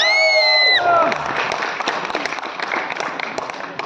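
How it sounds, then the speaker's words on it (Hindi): At a Bhojpuri music event, a crowd breaks into loud clapping and cheering with scattered whoops, rising right after a sustained electronic tone fades and continuing as a dense, lively roar close by. "एक ताली बजा के बता रहे हैं।"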